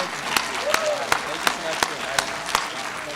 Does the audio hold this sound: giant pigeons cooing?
no